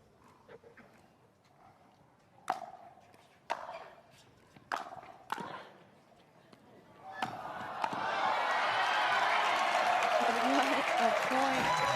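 A large crowd at a professional pickleball match on Carvana Grandstand Court at the Cincinnati Showcase bursts into loud, sustained applause and cheering after several sharp paddle-and-ball pops, filling the last few seconds.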